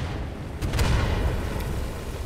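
Dense, rumbling battlefield fire in a War of the Worlds combat game: a continuous low roar of artillery and gunfire, with a sharper burst of booming shots near the middle. Loud throughout and with no clear voices.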